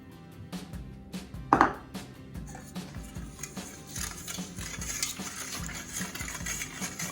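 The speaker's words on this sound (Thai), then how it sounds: "คนจนน้ำตาละลาย" A spoon stirs coconut milk and sugar for Thai tea custard, with scattered clinks against the bowl, one sharp knock early on, then steady scraping and swirling close to the microphone.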